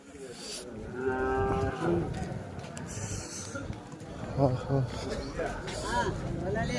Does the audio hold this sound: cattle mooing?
yes